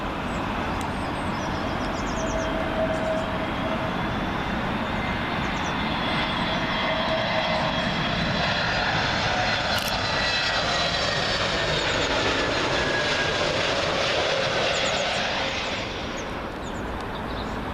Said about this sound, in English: British Airways A321neo, in from Athens